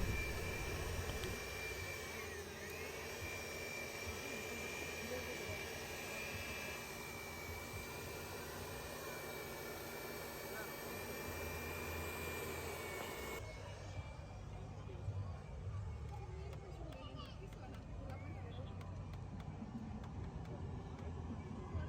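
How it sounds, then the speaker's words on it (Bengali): A powerful electric blower forces air into a giant inflatable air ball, a steady, loud whirring drone with a sustained tone that shifts and thins partway through. "ব্লোয়ার দিয়ে ভিতরে বাতাস ঢোকাচ্ছে।"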